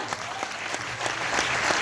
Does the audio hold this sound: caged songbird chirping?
no